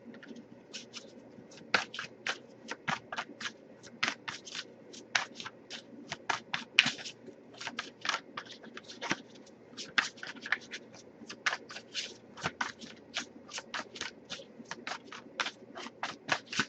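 An oracle card deck is shuffled by hand, a long fast run of crisp riffling and flicking cards that keep up a busy, uneven rhythm close by, with no speech.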